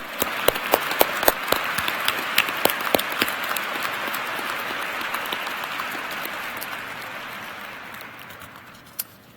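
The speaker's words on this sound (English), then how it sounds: "Let's give them a round of applause." A graduate commencement audience at the Carlson School of Management applauds. Many hands clap in a steady wash with a few sharp, loud individual claps up front, and the applause gradually thins out toward the end without any talking.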